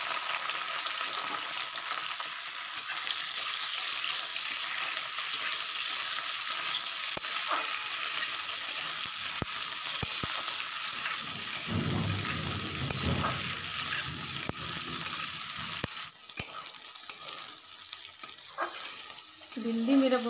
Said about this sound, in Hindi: भिंडी को थोड़ा फ्राई कर लूँगी